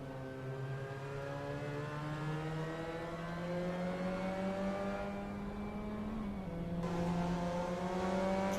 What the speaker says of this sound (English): Keep a close eye on the car that just passed me there.